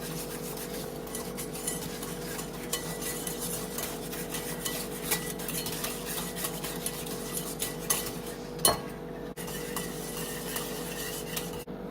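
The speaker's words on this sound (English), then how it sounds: "You want to whisk that till it's thick" A cream cheese mixture for pumpkin parfait is whisked in a bowl, giving a steady, quiet patter of metal scraping and clicking that keeps up throughout, with one brief louder knock near the end.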